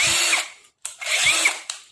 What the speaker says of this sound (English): The point of this video is to put the drill, cordless drill, to the test